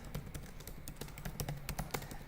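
Rapid typing on a computer keyboard while writing HTML text, a dense run of crisp, close key clicks in an uneven rhythm, heard alone without talk.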